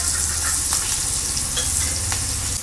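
Food sizzles and fries steadily in a hot pan on a home stove, with a constant crackling hiss and occasional brief pops, close by, with no talking.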